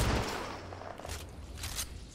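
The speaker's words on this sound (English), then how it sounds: "I broke the shield shooting at James" Rapid bursts of gunfire from a shootout in the video game Apex Legends, repeated shots in quick succession with low rumbling, moderately loud against a busy game backdrop.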